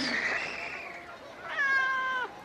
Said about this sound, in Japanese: なんだ、猫か。